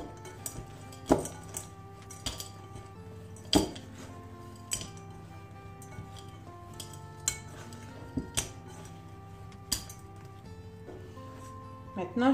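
A spoon or spatula clinks against a bowl while M&M's are stirred into cookie dough, with irregular sharp knocks and scrapes repeating close by over a steady low hum.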